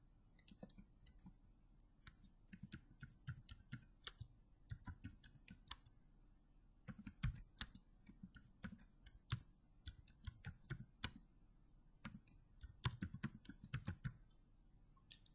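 Quick, uneven bursts of typing on a computer keyboard, with crisp clicks coming in clusters and short pauses in between, fairly close and quiet against a low background hum.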